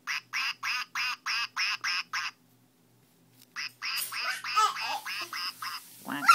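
A duck quacking in a series of about eight evenly spaced, fairly loud quacks, then a pause, followed by a busier stretch of denser quacking calls.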